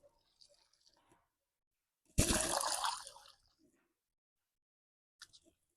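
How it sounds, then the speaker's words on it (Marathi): Water poured onto a newly planted hibiscus in a terrace garden gives one brief, splashy gush lasting about a second, surrounded by near silence with a few faint clicks. "झालं असं पाणी घालून घ्यायचं."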